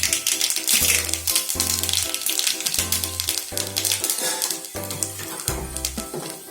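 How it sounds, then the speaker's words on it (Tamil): Mustard seeds sputter and pop in hot oil for a village-style pirandai chutney. Dense crackling sizzle comes with rapid irregular pops, loud and close, and a low rhythmic thumping runs underneath in bursts. "அதில் வந்து நம்ம கடுகு போட்டுக்கிறோம். கடுகு பொரியிடுறோம்."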